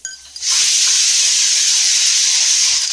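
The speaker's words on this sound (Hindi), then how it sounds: "और फिर बंद कर दिया कुकर और कुछ देर में बजेगी सीटी।" A pressure cooker of rice and dal khichdi lets out a loud, sustained steam whistle, starting abruptly after a brief quiet moment and hissing steadily at full strength without pause.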